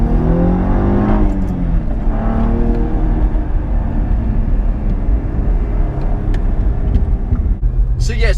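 A Cadillac ATS-V's twin-turbo engine accelerates hard, its loud, sustained roar rising in pitch before a brief shift near the end, with a voice speaking over it.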